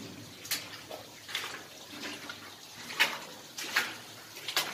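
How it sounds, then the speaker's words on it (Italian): Water rushes and splashes from a natural waterfall inside a mine tunnel, a steady hiss with scattered louder spatters, moderately close with no voices. "Lungo la galleria una meravigliosa cascata naturale, uno spettacolo della natura"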